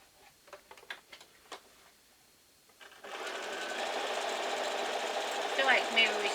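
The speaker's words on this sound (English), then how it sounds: "Give it a sew." A sewing machine stitches a quilt block, its steady mechanical whir starting suddenly after a few quiet seconds of light handling clicks and running continuously and fairly close to the end.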